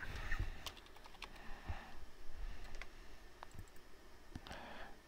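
Typing on a computer keyboard during GIS software work, a close run of quick, irregular key clicks and taps with no talking.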